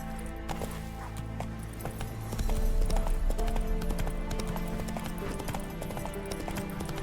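Roach the horse galloping in The Witcher 3, rapid rhythmic hoofbeats close and steady over a low game ambience, with a brief whinny, no talking.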